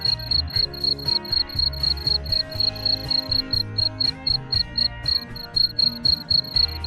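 Crickets on a cricket farm chirp in rapid, regular pulsed trills, a shrill repeated song close by and steady over a faint background, with no talk.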